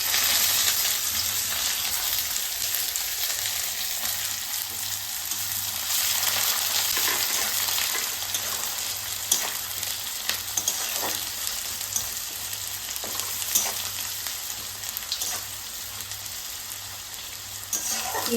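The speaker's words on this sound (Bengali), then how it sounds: "এবার দিয়ে দেব কুচনো পেঁয়াজ" Chopped onions fry in a pan with oil and a little sugar for a Bengali chicken curry with potatoes, giving a loud, steady sizzle with occasional stirring scrapes close by.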